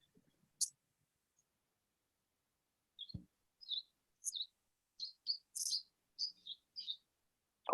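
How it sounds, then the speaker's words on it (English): Birds chirping in short, bright bursts, a few isolated tweets followed by a quick run of chirps, fairly faint and heard alone with a soft knock partway through. "Oh, I hear birds."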